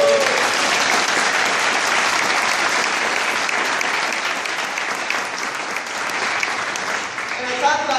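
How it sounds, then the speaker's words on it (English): An audience claps loudly and continuously for a scholarship recipient, dense close applause filling the whole stretch and easing slightly near the end as a voice begins to come through. "Clap for us"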